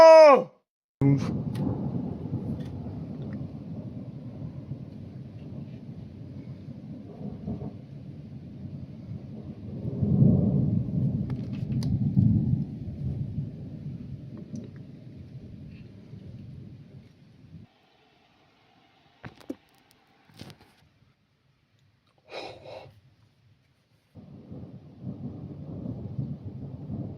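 Thunder from nearby lightning strikes rumbles low and heavy for long stretches, swelling and fading with a few sharp cracks, while a voice briefly exclaims at moments.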